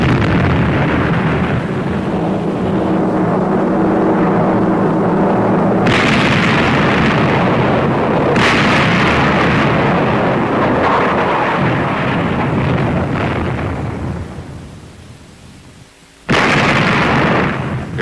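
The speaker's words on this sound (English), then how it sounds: "the guns are firing efficiently, like this" USS New Jersey battleship's big guns fire broadsides, each one a huge booming blast followed by a long roaring rumble, with several heavy shots in a row and a sudden loud burst near the end.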